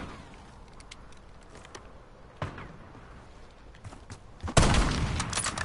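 Call of Duty multiplayer gunfire from firework-style bullets: scattered sharp cracks and pops over a low background, ending in a louder burst of rapid shots near the end.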